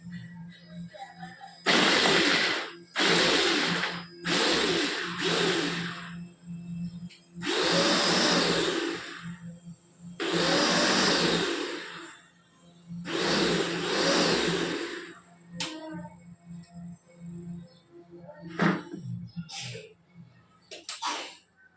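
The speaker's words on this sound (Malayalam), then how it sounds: "നമുക്കിനി ഒരു ക്യാരറ്റും കൂടെ ഒന്ന് ചോപ്പ് ചെയ്തെടുക്കണം" A kitchen chopper chops carrot in a series of loud whirring bursts, roughly eight pulses of a second or so each, separated by short pauses and then tapering into a few faint clicks.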